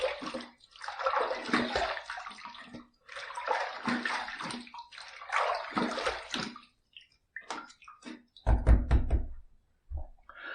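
Water splashes and runs in short bursts as a face and razor are rinsed after a second wet-shaving pass, loud and close, with a few knocks and thunks near the end.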